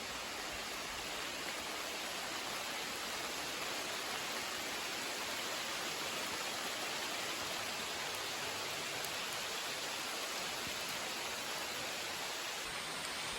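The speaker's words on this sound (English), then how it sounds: "it's starting to rain again" Rain falls steadily over a muddy New Hampshire trail on the Appalachian Trail, a dense even hiss of drops with no voices, continuous throughout.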